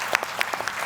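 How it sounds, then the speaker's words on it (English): Audience applause at a company event held at Hershey, heard as a short, fairly quiet burst of scattered claps from a room. "Let's hear one more huge round of applause for our great host from Hershey"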